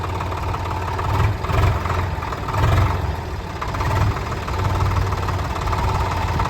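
A tractor engine runs close by with a heavy, steady low rumble that swells and eases slightly in a few rhythmic surges, shifting between first and second gear while working a field.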